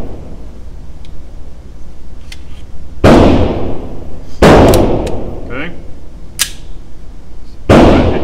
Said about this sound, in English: So let's try the CCI Stingers.